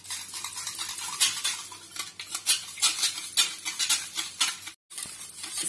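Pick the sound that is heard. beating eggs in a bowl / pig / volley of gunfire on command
beating eggs in a bowl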